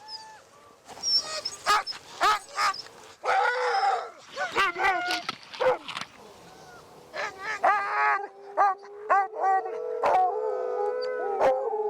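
Sled dog teams on a Greenland ice expedition howling, yipping and barking in overlapping bursts, several dogs close by with long wavering howls toward the end.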